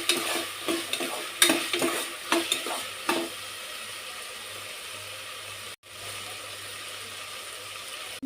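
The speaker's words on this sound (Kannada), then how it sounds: "ನೀಟಾಗಿ ಮಿಕ್ಸ್ ಆಗಿ ಸ್ವಲ್ಪ ಅದು ಎಲ್ಲ ಬಟಾಣಿ ಮತ್ತು ಬಟಾಟಿ, ಫ್ಲವರು ಇವೆಲ್ಲನೂ ಸ್ವಲ್ಪ ಎಣ್ಣೆಯಲ್ಲಿ ಸ್ವಲ್ಪ ಬೇಯಬೇಕ್ರಿ" Peas, potato and cauliflower frying in oil in a pan, stirred with a spoon: a steady close sizzle throughout, with a burst of scraping stir strokes in the first three seconds, then continuous frying alone.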